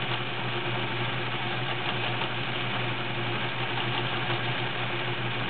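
A Kenmore model 1803 sewing machine runs steadily while stitching a cam pattern, giving a continuous even mechanical hum and whir with no pauses and no voices.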